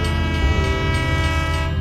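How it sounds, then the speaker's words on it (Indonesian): A locomotive pulling out on the Bondowoso–Wonokromo line gives a steady, loud, tonal drone with a strong low rumble and sustained horn-like tones, continuous and close, with no voices. "loko berderak, kereta bertolak tanpa gejolak"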